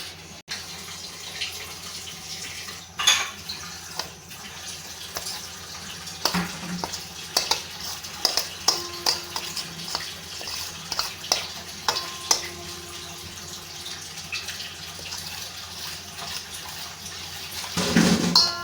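Salted chicken pieces fry in a pan for a spicy chicken roast, giving a steady close sizzle with scattered clinks and scrapes of stirring throughout and no talking.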